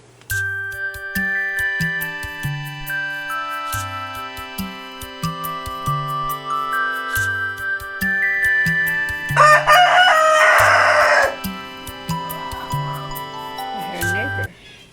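A rooster crows repeatedly in a backyard in clear, drawn-out calls, with chickens clucking in short bursts underneath and a brief noisy clatter partway through.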